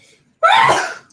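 A single sharp, breathy burst erupts after a moment of near silence, a close, loud sneeze-like explosion that trails off over about half a second.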